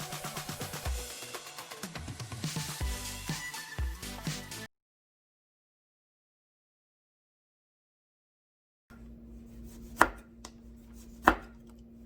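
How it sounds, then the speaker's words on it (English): A knife cuts fruit into thin slices on a board for spa water. Quick chopping taps come first, then a long silence, then two sharp, separate cuts close by. "the goal is to slice it thin, keep your fingers curled and protected."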